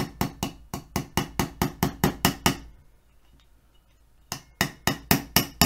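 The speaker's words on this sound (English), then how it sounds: "Make sure you got something underneath it to support it while you're hammering away at this thing." Hammering on a part while assembling an AR-15 pistol in 300 Blackout: a fast, steady run of sharp metallic blows close by, a pause of about one and a half seconds, then the rapid strikes resume.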